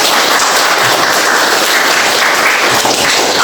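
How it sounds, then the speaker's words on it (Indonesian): A classroom group applauds after a group-work presentation, a loud, dense burst of clapping that runs steadily throughout without any talk over it. "tepuk tangan dulu Pak."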